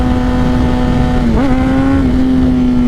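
A Honda CBR1000RR or CBR600RR with a Two Brothers full exhaust holds a steady, loud droning engine note with a brief rev dip and rise midway as the rider pulls a wheelie.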